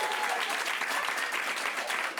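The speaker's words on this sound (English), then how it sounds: "Give them a nice round of applause as they retake their seats" Steady audience applause at a magic show, a dense wash of clapping that holds at an even, fairly loud level throughout as couples return to their seats.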